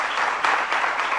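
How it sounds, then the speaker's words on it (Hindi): An audience at a Jain religious gathering applauds loudly, a short, dense burst of many hands clapping together with no talk over it. "जरा जोरदार तालियों के साथ।"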